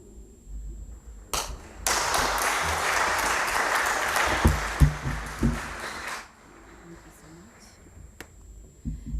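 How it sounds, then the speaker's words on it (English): A conference audience bursts into sustained applause at the close of a keynote on postcolonial higher education, a dense wash of clapping lasting several seconds before thinning into scattered claps and quiet room noise. "Another hand clap."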